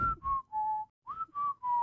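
A person whistles a short tune of six clear, steady notes with brief gaps between them, close and fairly soft.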